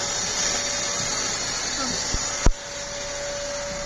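A Kärcher vacuum cleaner runs with a loud, steady drone, powered by a generator in a house under renovation with drywall work. A sharp knock breaks in midway and the drone drops slightly, with faint voices in the background.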